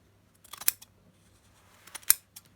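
Scissors trimming excess upholstery fabric, two short quiet snipping bursts separated by a pause, close up in an otherwise still room.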